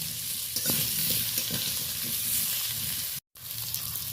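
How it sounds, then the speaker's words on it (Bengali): Continuous hissing sizzle of potatoes frying in oil, with occasional stirring clatter and a brief dropout near the end. "ওই তেলেই আলুটা তুলে দিয়েছি ভেজে নেওয়ার জন্য"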